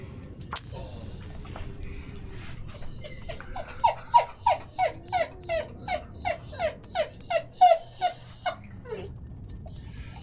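A dog whimpers and yips in a rapid run of about a dozen high, rhythmic cries, fairly close and loud over a low background rumble, with no talking.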